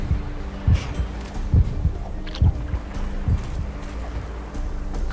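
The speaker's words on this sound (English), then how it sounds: "I'm almost dead. I hear the heartbeat." In the video game Sacred 2, a low thudding heartbeat warns that the character is nearly dead, its beats thumping at a slow, regular pace, about one every 0.9 seconds, over a faint background hum.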